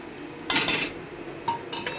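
A spoon clinks and scrapes against a kadhai while pav bhaji mixture, seasoned with pav bhaji masala and coriander, is stirred: a quick cluster of metallic taps, a pause, then a few more clinks, close and with no talking.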